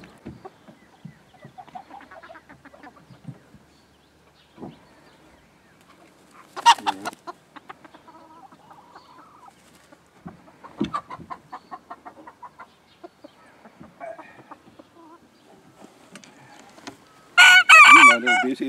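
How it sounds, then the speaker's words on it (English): Chickens cluck and murmur nearby during a quiet stretch, with scattered soft calls and occasional louder squawks, before a rooster bursts into a loud close crow at the end. "Gotta love chickens."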